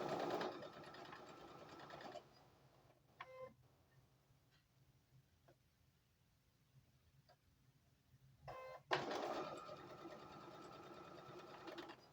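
A sewing machine stitches the top and bottom edges of fabric, running in two loud, steady bursts at the start and end with a quiet pause between them.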